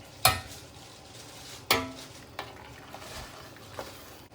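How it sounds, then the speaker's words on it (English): Soup is stirred in a pot, several sharp clinks of a utensil against the pot spaced a second or so apart over a faint sizzling background, no speech. "let's give that a stir"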